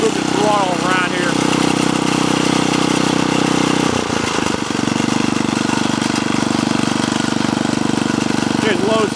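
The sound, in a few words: Montgomery Ward rototiller engine idling at low speed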